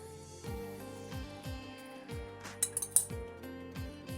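Cake batter of sugar, soured milk and eggs stirred in a bowl, with a repeating rhythm of soft scraping strokes and a few light clinks of the utensil against the bowl, backed by quiet music.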